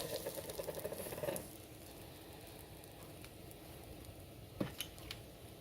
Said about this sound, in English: And then what we're going to do is stir that very thoroughly.